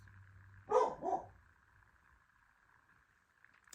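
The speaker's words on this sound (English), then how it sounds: "My dog is hollering because some lady is walking past our house." A house dog barks at someone walking past outside, two loud close barks in quick succession followed by quiet room tone.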